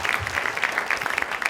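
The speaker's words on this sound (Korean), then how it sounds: "우리 함께 박수 드립니다." Congregation applauding during a Korean church ordination service for military chaplain pastors, a steady, dense wash of many hands clapping at moderate distance, continuous throughout with no speech over it.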